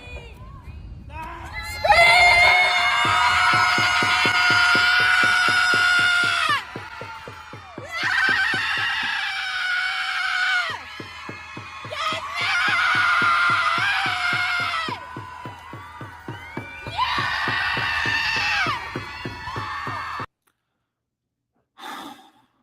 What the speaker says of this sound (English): Liberal women gather in a New York City park to collectively scream in rage during an International Women's Day protest